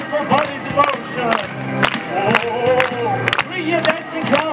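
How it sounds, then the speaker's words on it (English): A street audience at a busker show in Wrocław claps rhythmically along to lively music, the regular claps close and prominent, mixed with shouts and voices. "Everybody clap to the music!"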